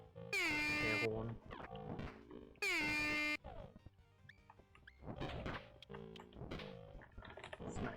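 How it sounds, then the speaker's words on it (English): Blaring air horn blasts from the zombie-survival video game Death Road to Canada, two long loud honks amid game effects and music, with a person talking over the action. "Air horn."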